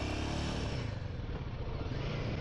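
Royal Enfield Himalayan motorcycle with a 452 cc engine being ridden, its steady low engine drone and road roar continuous and loud throughout, with no voices.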